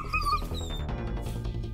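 A dog whimpers and yips in short high-pitched whines over a busy, loud background of music and other sounds.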